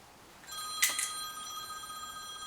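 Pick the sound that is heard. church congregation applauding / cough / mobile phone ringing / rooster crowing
mobile phone ringing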